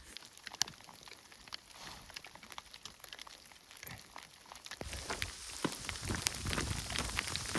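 Hail pattering onto rocks in an exposed canyon during a thunderstorm, scattered sharp ticks at first that thicken into a denser, louder clatter toward the end.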